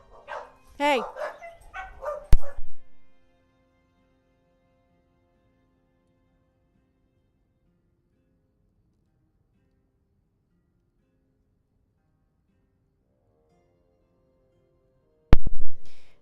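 Household dogs bark as a son comes home: a cluster of close, loud barks and yips fills the first few seconds, with someone briefly speaking, followed by long silence and a short burst of noise at the very end.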